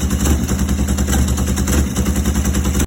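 Close and loud, a chopper motorcycle engine runs roughly after cranking, a heavy uneven low rumble with rapid irregular firing pulses that cuts off abruptly at the end.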